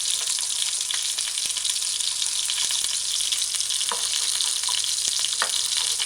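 A jerk hamburger patty with holes poked through to the pan fries gently over low stove heat, giving a steady soft hiss with occasional small pops and faint scraping, close and without talk.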